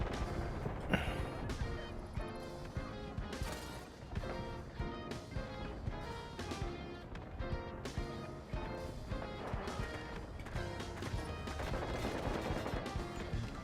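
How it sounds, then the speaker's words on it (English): Artillery barrage in the video game Ghost Recon Wildlands, dense rumbling blasts and crashes layered over a continuous busy game soundtrack, fairly faint overall. "Artillery barrage incoming."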